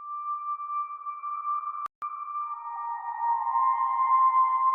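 A soft, steady synth pad holds one smooth tone with a faint higher overtone, briefly interrupted by a click, then continues and slightly shifts pitch.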